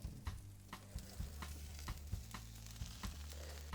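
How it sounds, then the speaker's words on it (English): A steak sizzles in a pan while being basted with butter, giving a soft, steady frying hiss broken by regular spoon or pan knocks about every half second, faint and close. "we're gonna put it back into the pan and butter bath it"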